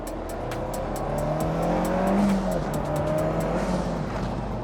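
A Honda S2000 drives with a steady, close engine drone, its pitch rising and then settling back. A faint squeal and a passing-vehicle sweep sit in the middle of the clip, and nobody speaks.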